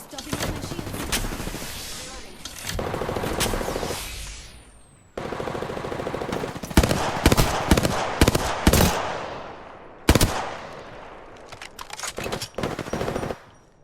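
Rapid automatic gunfire from a Mirage-era battle royale video game match, loud sustained bursts broken by short pauses and clustered single shots, with brief gaps between engagements.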